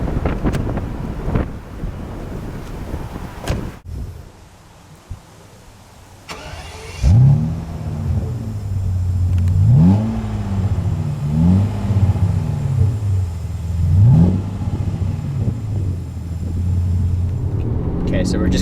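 A 2001 BMW 750iL with a Dinan-tuned V12 pulls away, engine revving up through several gear changes with rising and falling pitch, heard from inside the car under wind rush and some talk.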